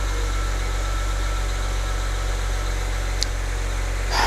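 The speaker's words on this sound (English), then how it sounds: "I will start the car, run it again, see what comes back" A BMW E90 engine idles with a steady low hum and faint vibration, with a brief light click partway through and a small rise in noise at the very end.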